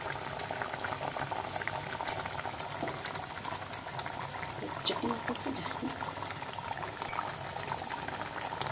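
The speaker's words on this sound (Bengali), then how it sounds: "এবার এটা ফুটবে তো" Rasgulla rezala curry, spiced with garam masala and a pinch of sweet attar, bubbles steadily in a pan on the stove, a soft continuous simmering hiss with occasional small pops.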